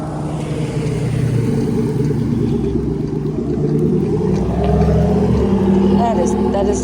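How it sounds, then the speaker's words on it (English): A loud truck passing close by on a road early in the morning, a steady heavy engine rumble that swells slightly toward the end, with no talking over it. "oh, here comes that truck."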